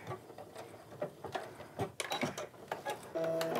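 A sewing machine running reinforcing stitches on a tote bag: quiet, rapid mechanical ticking and clattering in short irregular bursts, close by, with a steady hum joining near the end.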